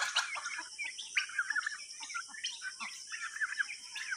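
Turkeys on a farm call in quick, high chirping and squawking bursts, fairly close and steady over a faint background hiss, with no talking.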